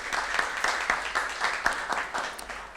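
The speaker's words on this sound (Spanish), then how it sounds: "Un aplauso para ella." An audience at a talk on disinformation and hate speech on social media claps for a communications professor, with steady, fairly soft applause from a modest crowd.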